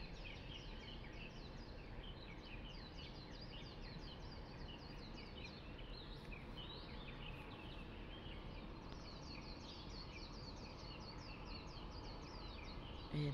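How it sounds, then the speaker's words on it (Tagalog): Many birds chirp and twitter continuously through the morning near a park, a dense chorus of overlapping calls above a steady low hum of background noise. "Naririnig ko yung mga boses ng ibon."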